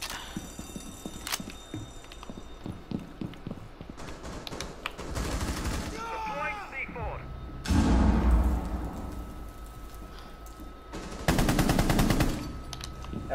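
Video game gunfire crackles in several bursts of rapid automatic shots, loud and close, separated by quieter stretches of in-game ambience and small effects.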